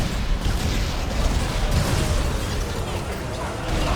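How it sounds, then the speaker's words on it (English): Rumbling, booming explosions from the horror video game Dead Space 2, a dense continuous barrage of low blasts and pops that stays loud for the whole stretch with no pauses. "The explosions were too loud."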